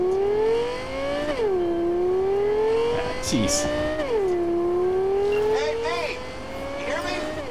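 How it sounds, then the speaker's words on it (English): A high-end sports car in the Cyberpunk 2077 video game accelerates hard, its engine tone climbing steadily and dropping twice as it shifts gears, loud and close, with a voice and brief chatter over it. "Actually handles pretty well for a high-end sports car."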